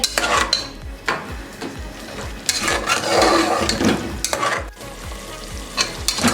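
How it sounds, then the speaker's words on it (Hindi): Chickpeas fried in oil in a pan, with a spoon scraping and stirring through the loud crackling sizzle in repeated rhythmic strokes and occasional metallic clinks. "इसको 7 से 8 मिनट के लिए बहुत अच्छे से भून लेंगे।"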